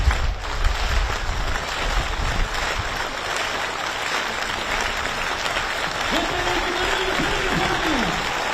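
Crowd applause at a protest march arriving at Parliament, a dense continuous clapping wash that stays loud throughout, with faint voices and a brief low whistle-like tone near the end.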